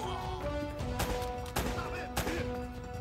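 Rapid bursts of gunfire from the video game Uncharted: Drake's Fortune, with several sharp shots cracking over a busy game soundscape and a tonal music bed.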